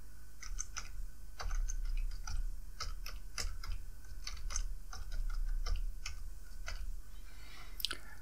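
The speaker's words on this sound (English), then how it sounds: "type in your password." A password is being typed on a computer keyboard as a quick, irregular run of light key clicks, close and fairly quiet, with no talking.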